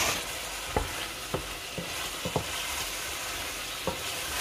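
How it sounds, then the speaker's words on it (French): Oil sizzling in a pan for a Burundian cabbage dish, a soft steady hiss with several sharp taps and scrapes as the contents are stirred. "maintenant je vais tourner et rajouter un peu d'huile"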